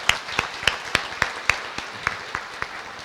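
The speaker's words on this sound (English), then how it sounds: "Let's give a round of applause." Scattered clapping from an audience at a veterans resource fair, about a dozen distinct claps at a steady, slightly slowing pace, fairly close and thin rather than a full ovation.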